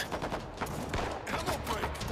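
Gunfire in the shooter game World War Z, rapid bursts of close automatic shots crackling continuously over a dense, noisy game mix.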